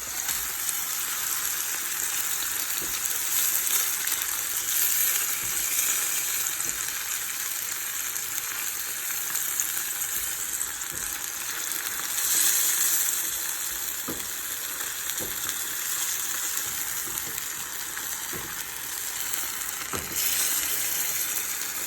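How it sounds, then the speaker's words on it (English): Ground beef hamburger fries steadily in a pan, making a dense, continuous sizzle with occasional faint stirring taps throughout, close up and with no voices. "And then I'm just going to continue to let it cook."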